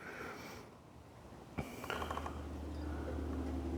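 A rifle scope turret is dialed up to 2.1 mils for a 400-yard shot, giving a short run of soft mechanical clicks after a sharper click, over a steady low hum and faint background noise.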